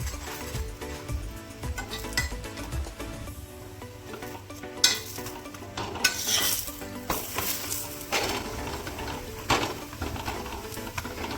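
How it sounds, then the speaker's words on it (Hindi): Bajra paratha roasting in ghee on a pan over a slow flame, a soft continuous sizzle with occasional clinks and scrapes of a utensil pressing the bread, fairly quiet and close, no talking. "दूसरी साइड से भी लगा देते हैं घी और सेक लेते हैं"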